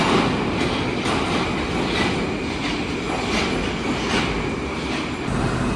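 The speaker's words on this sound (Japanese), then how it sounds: "これがロシアの地下鉄で一番新しい車両ですね。" A newest-generation Moscow metro train arrives underground with a loud, steady rumble, rhythmic clicking of wheels over rail joints and faint squeals, heard up close without talking.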